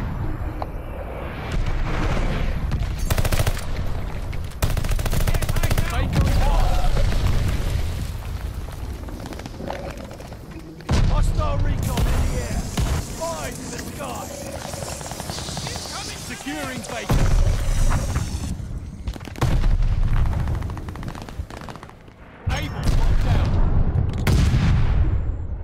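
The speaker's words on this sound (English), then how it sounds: "Enemy glide bomb incoming." Explosions from enemy glide bombs in Call of Duty: Vanguard multiplayer, loud booming blasts and gunfire in repeated bursts with sudden drops between, game voice callouts heard over the noise.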